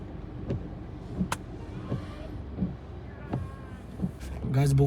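A car stuck on a slope on the way to a waterfall, its engine droning low and steady with faint repeated knocks, while people talk nearby and the engine rises near the end.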